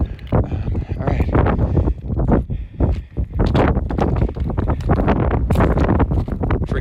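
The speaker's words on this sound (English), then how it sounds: "Forgive the wind." Strong gusty wind buffets the microphone on a mountain trail up Mt. Sherman via Iowa Gulch, a loud continuous roar with surging bursts and brief lulls.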